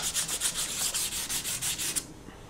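Fine 320-grit sandpaper rubs along the edges of a wooden Stratocaster guitar neck in about a dozen quick, even back-and-forth strokes, close and hissy, then stops.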